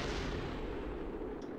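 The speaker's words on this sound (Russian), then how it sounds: "Мне не нравится то, что у нас что-то взрывается" Spacecraft parts blowing apart during a violent atmospheric entry in the Kerbal Space Program video game, heard as a dense, continuous roar of rumbling explosive bursts with heavy low end, loud and sustained throughout.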